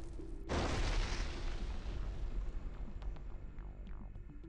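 A sudden loud blast destroys an Air Force bunker, followed by several seconds of rumbling debris and echoing roar that slowly fades, with faint whistling tones near the end.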